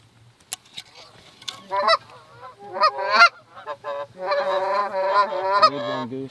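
Canada geese honk repeatedly at a river during an Iowa waterfowl hunt, their calls coming in overlapping bursts that build into a loud, continuous chorus with occasional sharp clicks and knocks.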